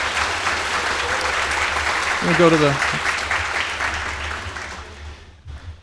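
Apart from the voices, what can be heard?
audience applause for temporary employees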